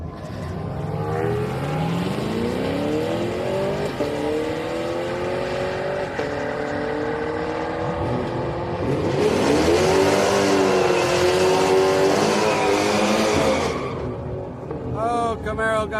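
Two cars drag racing side by side on a quarter-mile strip at a Friday street night at Houston Raceway Park, a Chevrolet Camaro against a Nissan Maxima, engines revving and rising in pitch through the gears, loud and sustained, with a voice talking over the noise.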